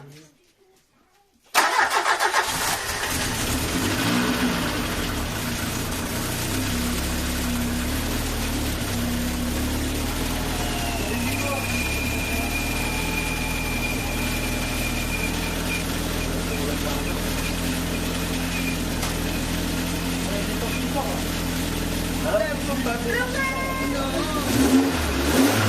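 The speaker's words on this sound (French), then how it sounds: "Le premier essai de démarrage, comment ça s'est déroulé." Rebuilt Peugeot 309 GTI engine cranking and firing for its first start, then running at a steady idle with a few rises in revs; loud, close and continuous, with people talking over it.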